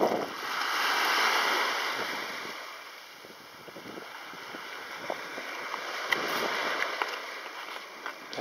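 Waves wash over a pebble beach on a foggy shore, a soft rushing surge that swells and recedes with faint gravel rattle, steady wind noise on the microphone underneath.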